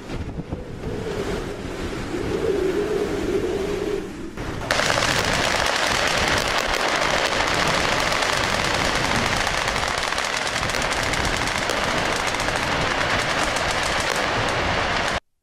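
Rapid bursts of automatic gunfire crackle continuously, loud and harsh, blending into a roaring wash after a quieter, windy opening.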